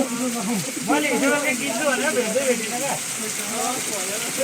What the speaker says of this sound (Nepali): यति ठुलो पानी परेर